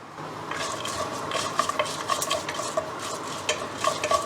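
Cashew nuts frying in hot oil with urad dal for upma give a steady, soft sizzle, broken by light scraping and stirring taps from a spatula against the pan.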